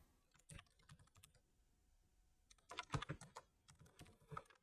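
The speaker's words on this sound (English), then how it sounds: "You can type your name." Quiet typing on a computer keyboard in an indoor setting, with scattered key clicks at first, then a denser flurry of rapid keystrokes, all faint and close.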